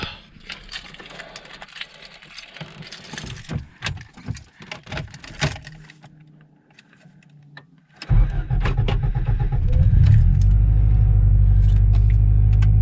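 A turbocharged Honda Civic with a D16Y8 engine cold-starts after some clattering and shuffling, the cranking catching into a loud, steady rumbling idle that fills the last few seconds close by.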